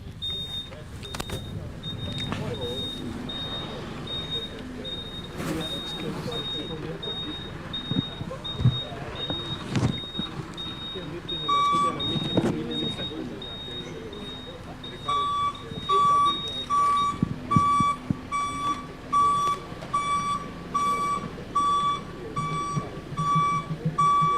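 Trucks maneuvering at an outdoor handover ceremony of ambulances and medical equipment. Engine rumble and a repeated, evenly spaced reversing beep grow more prominent in the second half, while people talk throughout.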